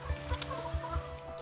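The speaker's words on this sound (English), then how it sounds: "But these hens here in Suffolk love them." Hens on a farm in Suffolk cluck in short, low, repeated bursts, close by and fairly loud over a steady background hum.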